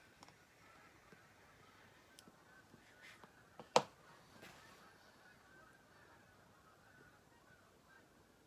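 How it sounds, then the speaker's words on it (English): Distant flock of geese honking faintly overhead, a few scattered calls with one sharper honk, over quiet outdoor background. "geese that just flew over."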